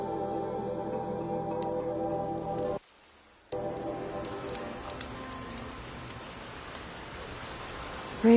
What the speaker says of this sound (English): Rain's been building for long enough.